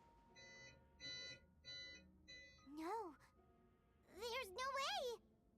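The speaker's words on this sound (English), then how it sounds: "Sorry about the beeping." Four evenly spaced electronic beeps, faint and thin, followed by animated character voices with sliding, sing-song tones.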